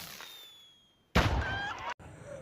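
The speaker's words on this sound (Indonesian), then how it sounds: "Stephen melemparkan petasan untuk memanggil bantuan." A thrown firecracker goes off with one sudden loud bang after a quiet moment, then a brief burst of crackling noise that cuts off sharply.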